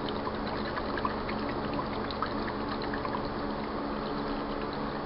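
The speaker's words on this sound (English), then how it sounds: "you can see just how much water the pump is actually pushing through the tube" A pump pushes water through a tube in an electrolysis cell filled with sodium bicarbonate electrolyte, giving a steady, even gurgling and bubbling rush of flowing liquid with no breaks.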